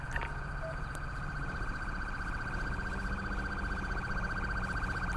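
A steady electronic ambulance siren in a video game wails continuously at moderate volume, with a faint low rumble beneath and no talking.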